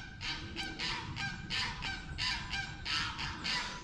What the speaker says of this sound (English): It's got them geese all hyped up.